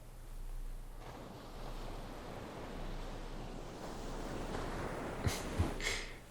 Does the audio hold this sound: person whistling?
no